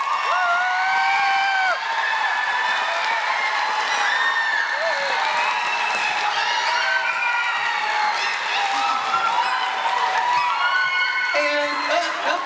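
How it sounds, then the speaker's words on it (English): A crowd at a 2014 Lego builders' event claps and cheers for the team members' parents, with children's high whoops and shouts over steady applause lasting about twelve seconds. "Give a round of applause to your parents who brought you here today."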